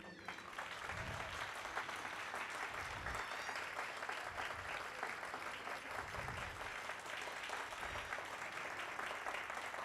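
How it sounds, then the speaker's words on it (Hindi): Sustained applause from a school audience, dense continuous clapping for the children's performance lasting the whole stretch, steady and loud without letting up. "क्या उसका कुछ पार्ट सिर्फ 30 सेकेंड लगातार तालियां बजा सकते हैं उनके लिए?"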